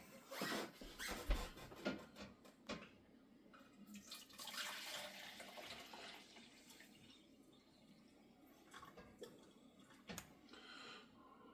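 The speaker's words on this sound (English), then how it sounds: "I'm going to go ahead and pour it in here and see what we got" Homemade maple syrup, boiled on a Vogelzang cast iron boxwood stove, is poured into a measuring container, producing faint, uneven splashing and trickling with small clinks over several seconds.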